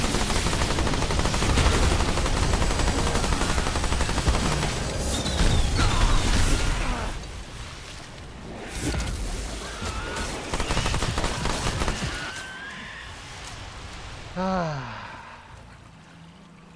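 Bursts of SMG fire from the video game Remnant 2, loud and rapid through the first half, then sparser shots among other game effects and a descending swoosh near the end.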